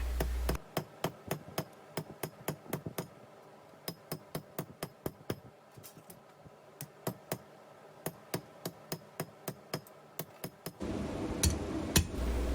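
A cut-off piece of lawnmower blade is flattened into flat stock for a rose stem with a hammer on an anvil. Close, sharp ringing blows fall in a steady, quick rhythm, and a burst of rougher noise comes at the end.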